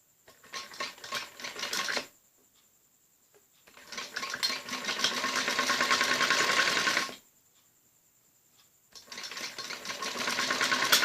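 A sewing machine stitches a folded strip around a kameez neckline in three runs, each a close, rapid mechanical whir separated by brief quiet pauses.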